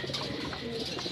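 Racing pigeon cooing softly in a loft, a brief low murmuring call set against steady background noise.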